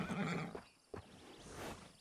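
A horse in the Red Dead Redemption 2 video game whinnies loudly and close, a rising-falling neigh followed by a short snort, with a faint clip-clop of hooves.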